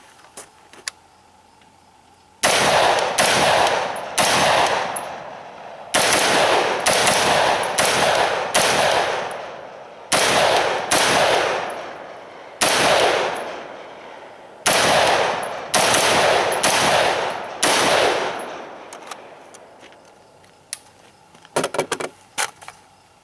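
A Bushmaster AR-style upper fires X-Tac 62 grain green tip rounds, a long string of loud, sharp gunshots in quick irregular clusters, with no talking.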